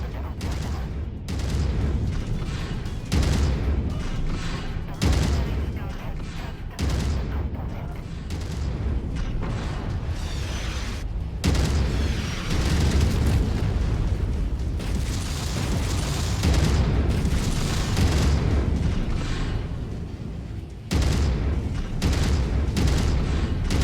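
Artillery shells pound the battlefield in MechWarrior 5 mech combat, a dense, continuous rumble of heavy blasts with sharp louder booms breaking through every few seconds.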